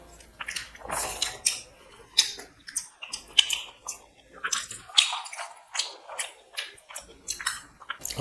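Close, wet chewing and biting of Arabian chicken mandi, juicy boiled chicken eaten in an eating challenge, with squishy bites and smacking in a steady rhythm and no talk.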